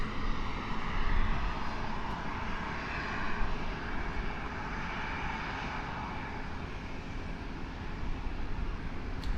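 Boeing 737-800 jet at an airport just after pushback, a steady broadband engine roar with a faint whine, held at an even level throughout with no talk.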